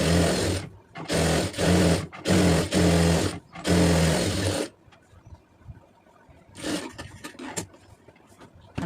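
Sewing machine stitching a fabric lining for a round-neck garment, running in several loud, quick bursts with short pauses, then falling quiet apart from faint handling noises and one more short run.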